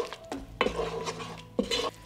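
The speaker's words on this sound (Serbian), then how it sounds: "Promešat ću par sekundi na nižoj temperaturi." Hungarian ground red paprika is stirred in a pan over low heat, a spoon scraping the metal in two or three distinct strokes with faint clinks, close and clear, with no talking.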